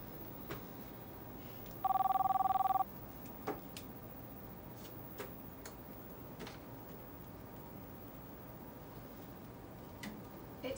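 Telephone ringing in a newsroom drama, one short electronic ring burst standing out near and clear over a quiet room with scattered faint knocks.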